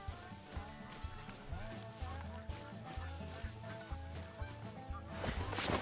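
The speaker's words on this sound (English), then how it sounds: "I can hear more geese." Geese honk and call in the hunting video game theHunter: Call of the Wild, set on a savanna map. Repeated honks come from a flock at moderate distance over a steady, low rhythmic background.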